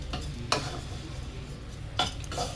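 Potato fry being stirred and folded into hot cooked rice with a spoon, Andhra-style aloo fry, giving soft scraping stirs with two sharper clinks of utensil against the pan, close and moderately quiet.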